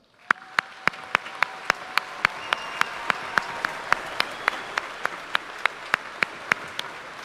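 Steady applause from the audience at a high school graduation for the graduating class, a continuous wash of many hands, with one close, sharp, evenly spaced clapper standing out loudly above the crowd throughout.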